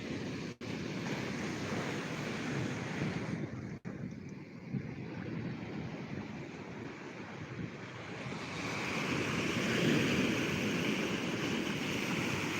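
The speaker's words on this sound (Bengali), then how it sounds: "দীঘার সেরা জলোচ্ছ্বাস আপনারা দেখতে পাচ্ছেন" Rushing roar of storm-surge waves breaking on the beach at Digha, at night amid gusty wind, swelling louder toward the end, with no voices.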